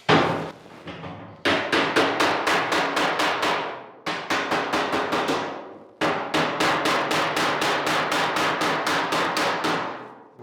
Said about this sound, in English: just bring them in close with a hammer